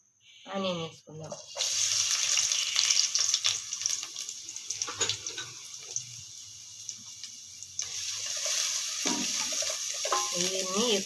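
Chopped onion drops into a pan with a little oil and sizzles with a bright, loud hiss that holds steady for several seconds, with someone talking briefly before and after the frying.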